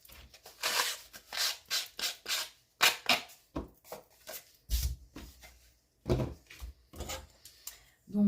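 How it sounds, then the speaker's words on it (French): A paper scrapbooking card for a 3D birthday card gets sanded by hand, with a series of close, rhythmic scratchy rubbing strokes, each short and separated by brief pauses. "je vais poncer"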